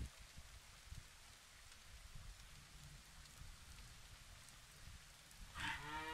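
A cow moos near the end in the Farmer's Dynasty farming game, one short low call heard over a faint steady patter of rain on the farm.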